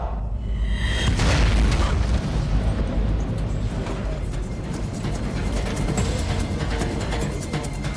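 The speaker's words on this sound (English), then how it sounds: "The bang sends a wave of alarm through the cabin." A dramatized in-flight aircraft engine failure: a loud, deep boom bursts out about a second in, then settles into a sustained heavy roaring rumble that continues to the end.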